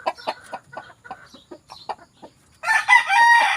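A broodcock rooster clucks in a string of short, sharp calls, then crows one loud, close, drawn-out call at the end.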